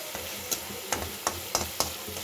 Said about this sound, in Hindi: ये भून रही है, मसाले भून रहे हैं अच्छे से